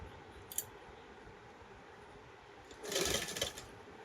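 A sewing machine stitches a Krishna (Kanha) costume dress, with one short whirring burst near the end after a quiet stretch and a faint tick earlier.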